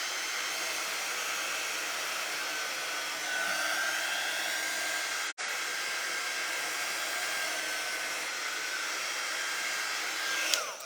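A blow dryer drying a painted craft shirt runs in a steady, loud whir for about eleven seconds, with one brief cutout midway and a slight pitch shift near the end.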